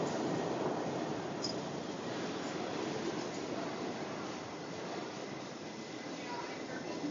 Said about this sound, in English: My train should be behind us.